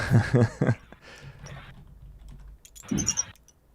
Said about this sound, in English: Gonna be some loud typing here for a minute.